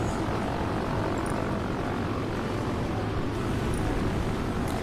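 Steady, loud drone of a propeller-driven fighter plane's engine in the aerial combat game World of Warplanes, a continuous engine roar with no talking over it.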